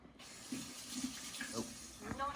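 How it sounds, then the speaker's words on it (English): Hands being washed under a running kitchen tap, a soft continuous splash of water with brief rubbing and squeaky sounds, quiet and close, without talking. "So I just got finished washing my hands"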